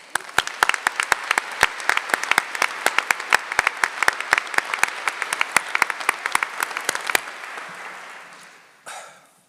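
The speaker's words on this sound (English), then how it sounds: "You all deserve a huge round of applause" An audience at a university public policy commencement ceremony applauds in a sustained round of crisp, dense clapping that stays even before fading out near the end.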